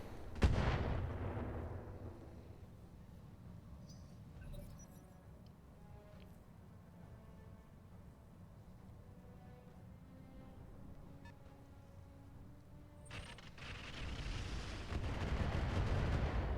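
Weapons fire in the mech combat game Battletech, opening with a loud booming blast and then a long rumbling, crackling stretch that swells again near the end, with no voices.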